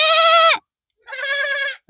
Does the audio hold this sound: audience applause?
no